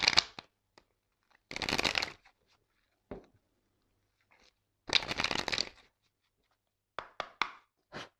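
A tarot deck is cut and handled in several short, crisp bursts of card rustling and riffling, separated by silent pauses and ending in a few quick taps.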